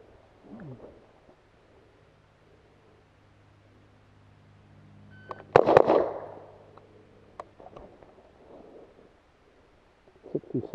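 An HK MR556 rifle fires outdoors: one loud, sharp crack with a short rumbling tail stands out midway through otherwise quiet surroundings, with a few faint clicks and handling noises before and after.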